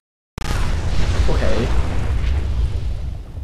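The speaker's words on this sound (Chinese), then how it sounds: "我再次見證到呢個嘢爆炸" An explosion in the video game Fallout 4 bursts in abruptly after silence as a loud, deep boom, then rolls on as a sustained rumble with a faint voice beneath it.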